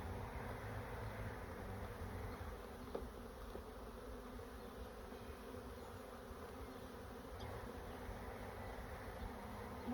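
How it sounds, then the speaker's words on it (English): A steady, dense buzz of honeybees swarms around the entrance of a new hive during an April inspection, a continuous close drone with no voices over it. "There's those bees."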